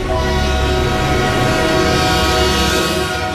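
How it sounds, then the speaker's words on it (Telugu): A train approaches loudly, its horn sounding as a sustained, steady tone over the rumble of the rail cars, filling the whole moment without any talk. "లేమ్మా ట్రైన్ వస్తుంది"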